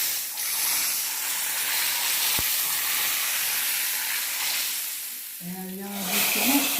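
Hot oil sizzles loudly and steadily in a pan for tempering a quick soup, a dense close hiss, with a brief louder flare near the end as it hits the soup.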